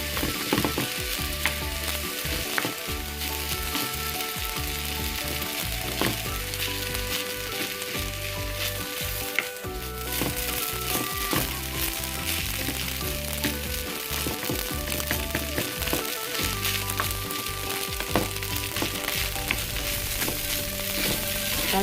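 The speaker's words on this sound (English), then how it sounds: "I'm going to go ahead and stir fry that up for about a minute." Rice is stir-fried with dark soy sauce in a pan: a continuous loud sizzle with rhythmic scraping and clacking of the spatula, close and unbroken, with no speech.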